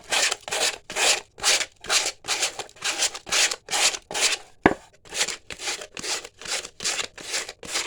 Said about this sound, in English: we'll take our sandpaper, fold it, do the good